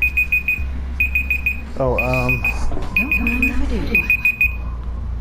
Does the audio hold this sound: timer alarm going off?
yes